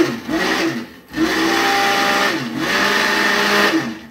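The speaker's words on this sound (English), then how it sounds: "Burp my blender." A blender churns soap batter in three loud, whirring bursts, its motor pitch dipping briefly between pulses.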